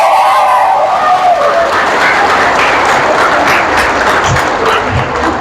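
A congregation at a church service in Gua Gua, Pampanga applauds, a loud, dense wash of many hands clapping steadily throughout, close and continuous.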